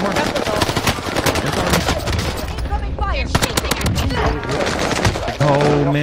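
Bren light machine gun fire in Warzone, loud sustained bursts of rapid shots with short gaps, mixed with other game noise and a player's voice over the top.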